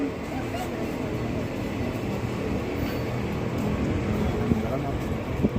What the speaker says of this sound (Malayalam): ആ ട്രെയിനിൽ പോകുന്നത് നോക്കി നിൽക്കാൻ എന്ത് രസമല്ലേ